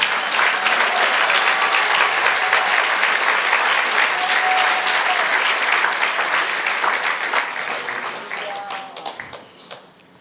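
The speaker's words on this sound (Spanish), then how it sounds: "Dale aplauso al Señor." A church congregation claps and cheers in sustained, dense applause that holds steady and then fades out over the last few seconds, with a few voices calling out within it.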